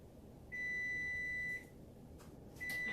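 A kitchen oven timer gives a long steady electronic beep lasting about a second, then starts another after a pause, clear and moderately near over a quiet room.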